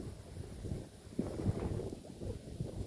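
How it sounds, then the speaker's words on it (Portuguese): Strong wind gusting at a riverside fishing spot near hills in the afternoon, a rumbling low buffeting against the microphone that swells and eases in uneven bursts, heard alone without talking. "O vento tá muito forte."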